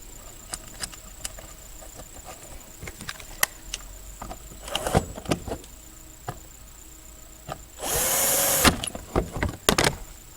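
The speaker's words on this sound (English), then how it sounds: "I'm going to stick the factory screws back into the air box" Power drill driving factory screws into the air box of a 2018 Honda Accord Sport 2.0T, with one loud, close whirring burst of about a second amid scattered plastic clicks and handling taps.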